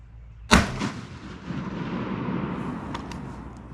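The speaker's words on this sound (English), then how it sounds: "I'm gonna shoot it one more time." A vintage gun fired at a pattern target during a turkey hunting challenge gives one sharp, loud, close blast, followed by a fading rumble of echo.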